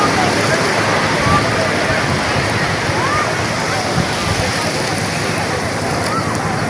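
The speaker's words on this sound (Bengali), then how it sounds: "কক্সবাজারে এসে সমুদ্রের যে গর্জন" Sea surf at Cox's Bazar beach roars in a steady, dense wash, loud and unbroken without distinct wave breaks.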